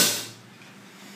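A single drum kit hit with the hi-hat and bass drum struck together, a sharp cymbal splash over a low thump that quickly decays, heard once and close.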